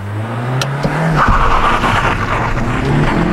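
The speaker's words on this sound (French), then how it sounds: "Je vais te faire une petite accélération pour voir là." A 2022 Suzuki Swift Sport Hybrid makes a hard launch from a standstill, its engine surging and tires squealing as it pulls away, loud and close with no talking.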